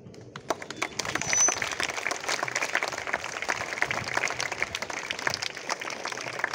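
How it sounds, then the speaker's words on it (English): A crowd applauds at a school kabaddi prize ceremony where medals are presented to players, dense continuous clapping that swells early and holds steady throughout. "Claps."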